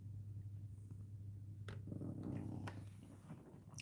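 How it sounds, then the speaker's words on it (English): A cat lying flopped at someone's feet purrs softly and steadily, a low rumbling drone with a few faint clicks and rustles on top, close to the microphone. "There's the cat giving you some Jedi purrs."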